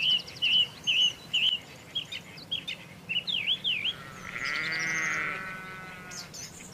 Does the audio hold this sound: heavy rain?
no